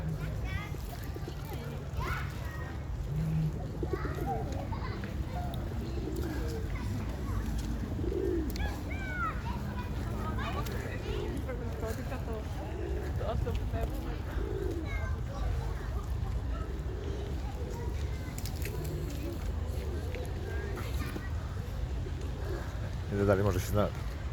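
Soft pigeon coos recur in the background amid steady outdoor ambience at a park in Syntagma, Greece, with faint children's voices and other birds nearby.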